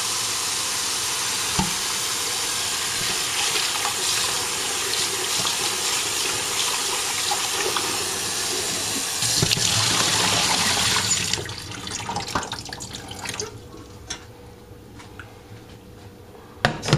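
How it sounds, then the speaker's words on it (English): Tap water gushes steadily into a container being filled and rinsed for strawberry winemaking, a loud close rush that drops to softer splashing and sloshing near the end. "Fill that up with some water. Rinse it out really well."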